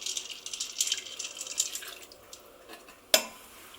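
Water poured down the inside wall of an Instant Pot while making baked beans, a bright splashing trickle that fades over a few seconds, ending in one sharp clink close by.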